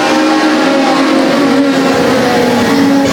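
Legends race cars at Sauble Speedway in Ontario roar together on the restart, a loud dense pack of engines droning and climbing in pitch as they accelerate down the front stretch, continuous throughout with no voice over it.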